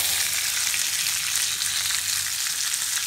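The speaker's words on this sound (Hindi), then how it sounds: "तेल अगर गरम हो गया तो इसमें आप ये मटर डाल दीजिए।" Steady, dense sizzling of peas frying in hot oil, close and continuous with no voices.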